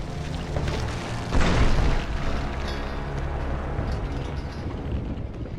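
A grenade goes off in Fallout: New Vegas, one sudden deep boom about a second in that rolls out into a long rumbling tail over steady game background noise.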